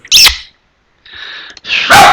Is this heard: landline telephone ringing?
no